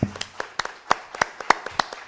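Scattered, uneven hand claps from a conference audience applauding a speaker, a dozen or so distinct sharp claps spread across a couple of seconds rather than a dense ovation, moderately close.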